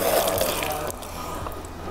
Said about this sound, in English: Just rinsing out the hay that might be in there.